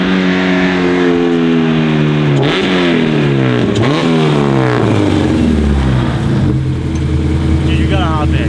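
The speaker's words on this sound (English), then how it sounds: "I think the Civic's really loud." A Honda Civic engine revs loudly up and down, close by, with the pitch rising and falling repeatedly and a steady roar throughout; voices may be mixed in underneath.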